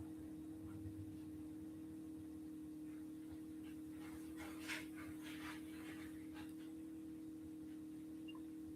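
Dogs move about and pant in a room while waiting for food, with faint scrabbling and a steady low hum running underneath throughout.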